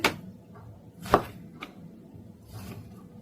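A knife cutting food on a board in a home kitchen, a few separate chops with a sharp, loud cut just past the first second and softer strokes after, quiet gaps between them.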